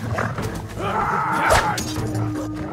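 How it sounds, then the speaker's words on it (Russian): Dogs bark in the video game Ghost of Tsushima, sharp yelps rising out of a dense, loud mix of combat and ambient game noise over almost three seconds. "Сука, собаки ещё бегают."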